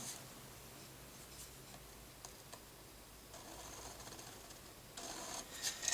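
A pencil draws a thin line on paper for a one-point perspective sketch, a faint soft scratching that runs steadily and close, with a few light taps and nothing spoken.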